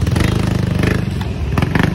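A motorcycle engine idling loud and close, its rapid pulsing throb steady, briefly rising as the throttle is blipped.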